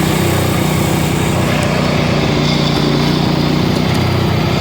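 A 54-inch Craftsman Z6700 zero-turn riding lawnmower runs close by, its engine giving a loud, steady, throbbing drone throughout with no pauses or voices.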